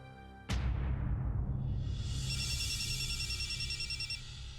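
A telephone rings during an outgoing call, a bright bell-like tone that starts suddenly and rings on steadily and close for several seconds.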